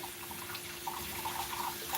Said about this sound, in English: So we just gonna give this one a little water